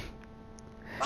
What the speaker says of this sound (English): Is that a sneeze?